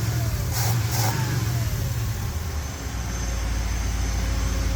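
A Ford 351 Windsor V8 in a classic catering truck runs loudly and close, a steady rumbling idle with a brief rise in revs early on before it settles back to an even drone.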